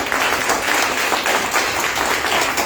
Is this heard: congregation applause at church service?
yes